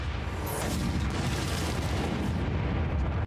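Loud artillery fire erupts in a battle scene from the anime Kaiju No. 8, a dense, continuous barrage of booms and blasts filling the whole stretch with no pause.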